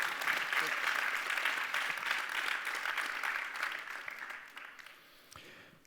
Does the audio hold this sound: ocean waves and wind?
no